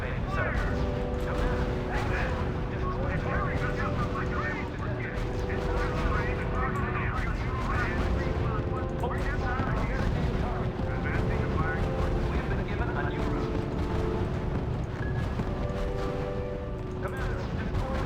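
A battle in R.U.S.E. rumbles on without pause: continuous gunfire, artillery blasts and crashing explosions under radio-style voice commands.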